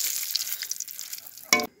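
Whole cumin, bay leaf and dried red chili spit and crackle in hot oil, close and lively with scattered pops, ending in a sharp louder burst of sizzle just before it cuts off; no one talks.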